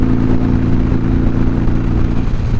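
A Harley-Davidson Sportster motorcycle cruises along a highway, its engine giving a steady, loud low rumble mixed with wind and road noise, holding a constant pace the whole time.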